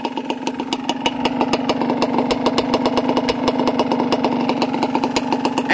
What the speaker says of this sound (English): you'll do this until the engine's too hot to touch